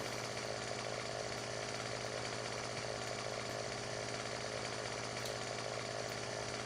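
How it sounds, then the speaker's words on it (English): A chainsaw in the Farming Simulator 17 video game drones steadily and loudly, a continuous buzzing engine tone with no pauses or speech. "I wonder if I can grind it out with my chainsaw"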